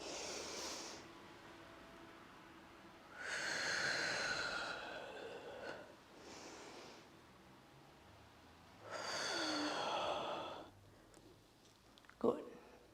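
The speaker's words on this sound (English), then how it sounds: "3 more breaths." Slow, deep breathing during a hatha yoga flow, with long audible inhales and exhales rising and falling in a steady cycle, close and soft, ending with a faint click.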